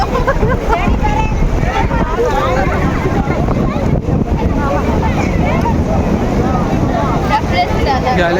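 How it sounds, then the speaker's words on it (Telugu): Steady loud rushing water from a reservoir overflow fills the whole stretch, a broad continuous wash with a windy roar, close to the microphone. "ఎలా సౌండ్ వస్తుంది చూడండి మీరే. వాటర్ సౌండ్ చాలా వస్తున్నాయి ఇక్కడ"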